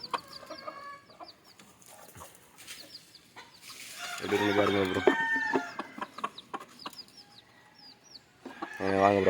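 Native chickens cluck and a rooster calls inside a village coop, with hens' calls rising in bursts throughout and someone talking intermittently nearby.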